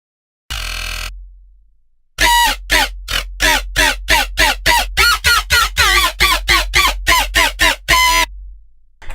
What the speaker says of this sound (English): which is the more classic kind of minimal rhythm way, and it sounds something like this.